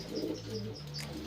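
Racing pigeons coo inside a loft set up for widowhood racing, giving a brief, soft, low burble close by with faint chirps.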